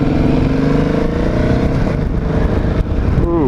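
A 2014 Ducati Hypermotard SP motorcycle's engine drones steadily and loudly on a test ride, with rising tones toward the end as it revs and accelerates.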